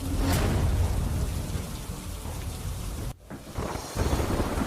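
Steady heavy rain pours across rural Rajkot with a sharp thunder crack near the start and rumbling after, the downpour dropping briefly near the end before resuming loud and close.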